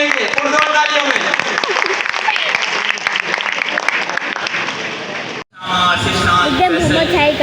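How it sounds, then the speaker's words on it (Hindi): An audience applauds at a stage ceremony, dense loud clapping that runs steadily, breaks off for an instant, then resumes, with voices in the crowd mixed in. "वर्दा कलंदरी, हेड कोच टंडू आदम चक्कर, आप सबकी पुरजोर तालियों में।"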